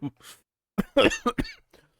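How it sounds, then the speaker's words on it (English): A few sharp, close coughs in quick succession from a lingering cough, with a brief bit of breathy voice before them. "my cough just seems to not want to go away"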